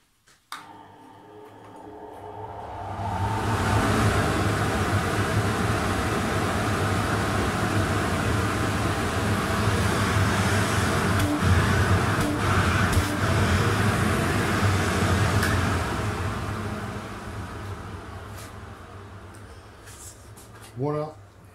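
A 1500-watt workshop vacuum cleaner starts up, runs as a steady broadband roar with a low hum for about fifteen seconds, then winds down, with a brief voice at the end.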